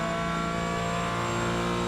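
A Porsche 718 Cayman GT4 in the iRacing sim revs hard under load, a loud sustained engine whine with steady harmonic tones that climb slightly, heard alone with no talk.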